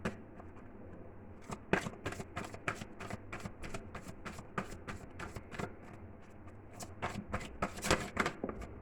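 Tarot cards being shuffled by hand: rapid, crisp riffling bursts of card flicks repeating in an irregular rhythm, close and fairly quiet, with no talking.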